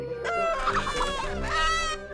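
Chickens cluck and squawk inside a hen house, a busy overlapping flock of rising and falling calls that fills the whole moment at close range, loud and steady with no talking.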